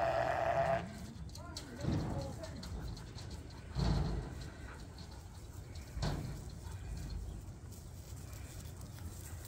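Sheep, a Suffolk among them, bleat on a farm after rain, several calls rising at intervals over steady outdoor background noise, with birds faintly audible.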